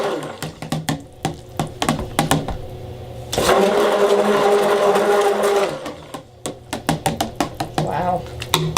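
Soap batter whirs in a stick blender for a couple of seconds, flanked by rhythmic clicks and taps of the mixer being switched and knocked in the container, close and fairly loud.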